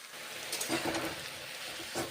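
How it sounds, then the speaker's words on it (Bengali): Spice paste frying on a low flame in a pan for an okra curry, a soft, steady sizzle with a few gentle swells of stirring, heard close and alone. "মশলা কষে নেওয়া হয়ে গেল।"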